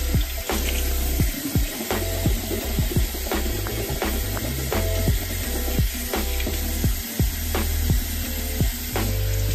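Water runs steadily from a bathroom tap during a morning skincare routine, a continuous close splashing stream with small clinks and knocks throughout, no talking.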